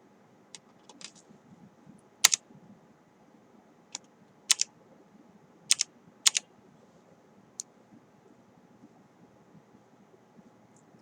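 Key presses on a computer keyboard during an After Effects logo animation session, a sparse scatter of close, crisp clicks, some single and some in quick pairs, over a quiet background with no talk.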